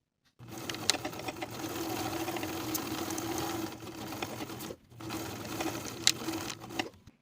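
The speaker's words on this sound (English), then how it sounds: "Sew the flap in place with a 1/2 inch seam allowance." A sewing machine runs in two steady bursts while stitching a pocket flap onto women's elastic-waist pants with a half-inch seam, its motor whirring loud and close, broken by a brief pause, with no talk.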